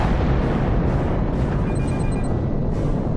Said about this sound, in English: All ships, fire at will!